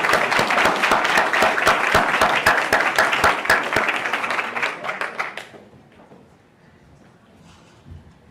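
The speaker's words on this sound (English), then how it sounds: "One final applause for our wonderful students from Harlingen High School South." A board meeting audience gives high school students a burst of dense, steady applause that stops abruptly after about five seconds, leaving a quiet room.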